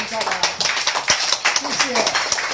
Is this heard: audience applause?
yes